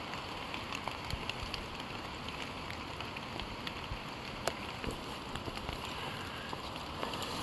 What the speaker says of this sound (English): when you're out in the rain